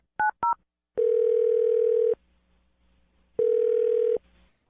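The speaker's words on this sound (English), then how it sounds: "I'm going to dial her phone number right now" Two short dialing beeps, then a steady telephone tone held for about a second, a pause, and the same tone again, clear and close with no talk during the call set up on a morning radio show.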